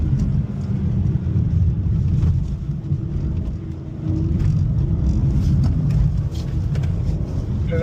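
BMW cars lapping a race track at the BMW M School in Spartanburg, South Carolina, making a steady, loud engine rumble that holds throughout with slight swells, close to the microphone and without talk.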